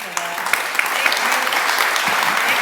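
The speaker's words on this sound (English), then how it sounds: "Can you all clap with me for that?" An audience at a political event claps steadily together, a dense, continuous wash of applause with a few louder individual claps standing out.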